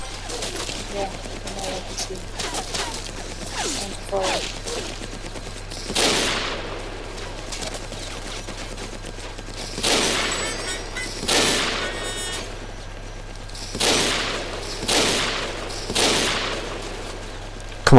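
Attackers' gunfire in Battlefield Heroes, arriving as repeated sharp bursts and single loud shots spread across the stretch, with quieter clatter between them and a low hum beneath.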